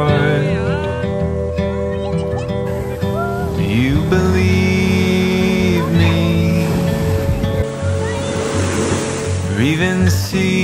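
Strong wind and surf at a beach in Dubai at night, a steady loud roar of waves and gusts with a person talking over it throughout.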